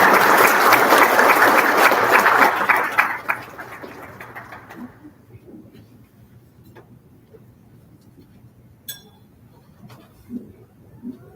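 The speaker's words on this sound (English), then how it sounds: "let's give our speaker another round of applause" Loud audience applause for a speaker at a university banquet, dense clapping that fades out after a few seconds, leaving a quiet room with a few scattered sounds.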